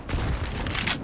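A headshot lands during a CS:GO match with a short burst of dense rifle gunfire, loud and booming, packed into about a second of sustained sharp reports.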